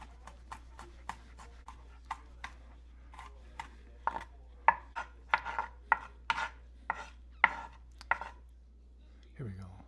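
Steady knife chops of garlic being minced on a cutting board, a series of crisp close taps that quicken and grow louder toward the end, with no talk.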